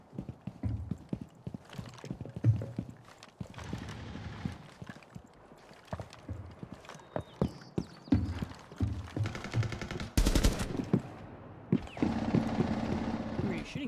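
Gunfire and scattered shots from a Rainbow Six match, with sharp bursts punctuating a busy mix of footsteps and game noise, several dense volleys near the end.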